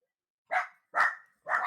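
Three sharp barks from dogs come in quick succession at close range, each short and punchy with silence in between, and no talking over them.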